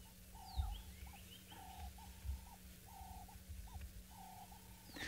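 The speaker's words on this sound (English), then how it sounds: "So you can hear there's quite a lot of calls from some of the doves." Several doves calling in the morning at a safari park, with repeated soft cooing phrases at a steady rhythm over a low, constant rumble and faint background noise.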